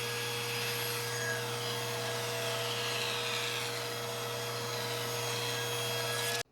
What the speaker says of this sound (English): I'll give that edge the attention it needs at the table saw